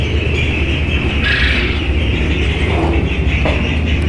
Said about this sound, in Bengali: এই যে কোয়েল পাখি